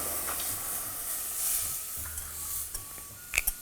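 Asafoetida dropped into hot oil for a Gujarati kadhi tadka with cloves and cinnamon, giving a steady close sizzle and hiss with a few sharp pops and clinks toward the end.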